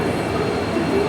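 A train at Hubli railway station gives off a brief, steady low rumble of rolling rail cars, close and moderately loud, with no clear clicks or horn.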